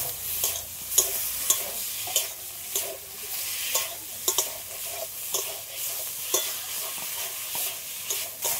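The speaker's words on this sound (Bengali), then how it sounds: "সবগুলো একসাথে ভালো করে একটু কষিয়ে নিই।" Potatoes and spices being stirred and fried together in a pan, with a steady sizzle and repeated scraping stirs at an even pace, close and moderately loud, with no voices.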